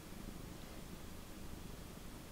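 A cat lying against a couch cushion purring away, a soft continuous low rumble, close but very faint and steady throughout.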